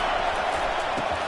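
Stadium crowd roar from a Madden football video game, a dense steady wash of cheering noise held at an even loud level throughout the short moment, with no distinct voices standing out.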